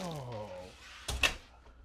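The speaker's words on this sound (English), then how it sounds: "Can I open the door?" Cabin door on the Carnival Radiance cruise ship opening with a short thud and a brief latch click, heard right after a surprised voice exclaims.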